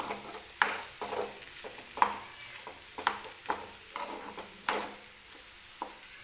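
Potato pieces sautéed and stirred in a pan with salt, a spatula scraping and tapping the pan about once a second over a soft, steady sizzle, close and moderately loud.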